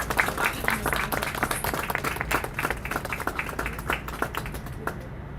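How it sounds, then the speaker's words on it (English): An audience at a memorial fund's legacy space launch gives a round of applause, many hands clapping in a lively rippling patter that slowly thins and fades toward the end, with no talking. "So please join me in giving them a round of applause."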